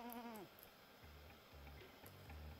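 A single sheep bleat rises and falls at the start in the game Jazzpunk: Director's Cut, followed by a few low, blocky tones pulsing softly in a quiet background.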